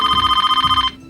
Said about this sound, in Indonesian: lalu terbangun oleh telepon dari Tatum